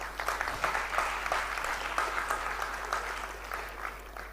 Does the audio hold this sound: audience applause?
yes